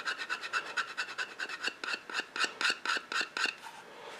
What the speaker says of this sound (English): can lightly scrape it away.